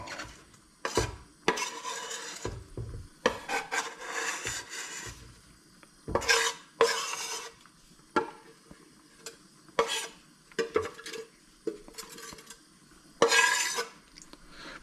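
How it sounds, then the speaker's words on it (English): A utensil stirs onions in a pan over low heat, in short scraping bursts with brief pauses between, with a faint sizzle underneath, close and fairly quiet. "just keep stirring this constantly so you don't get anything burning on the bottom"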